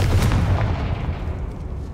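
Confringo, an explosive spell cast in Hogwarts Legacy, goes off as a single deep, booming blast that slowly rumbles away, with no voices.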